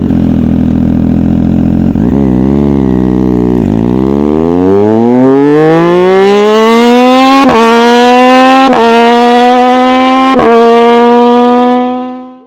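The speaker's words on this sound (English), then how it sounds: "This sweet inline 3-cylinder engine and the 675cc displacement is just right" A Triumph Daytona 675R's 675cc inline three-cylinder engine revs loudly and close, dipping a couple of times before climbing steadily to a high, sustained wail broken by brief gear-like interruptions, then cutting off.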